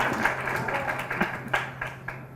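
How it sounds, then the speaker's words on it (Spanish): Applause from an audience at a panel on affordable housing programs, steady clapping over a constant hum with scattered louder claps, moderately close. "Les pido por favor un fuerte aplauso para ella"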